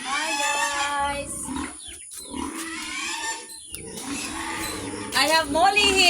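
Several agitated pigs on a Philippine farm shriek and squeal up close, long harsh cries rising and falling in overlapping bursts, with a louder outburst near the end.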